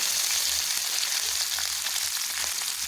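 Half an onion and curry leaves fry in hot oil with mustard seeds and cumin in a wok, making a loud, dense, continuous sizzle that holds steady throughout with no talk.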